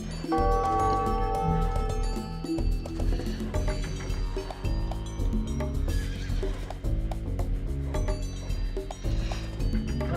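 Horses neigh and whinny in the strategy game Age of Empires II, loud over steady game music with clip-clopping hooves.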